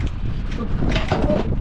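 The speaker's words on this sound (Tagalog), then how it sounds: "Ang lakas ng hangin dito mga bay." Strong wind batters the microphone outdoors, a loud, continuous roar with gusty surges and faint voices buried underneath.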